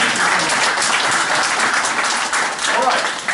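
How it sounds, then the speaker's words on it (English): Audience applause fills a tech meetup presentation room, a dense, steady wash of clapping from many people lasting throughout, with some faint voices mixed in. "Round of applause,"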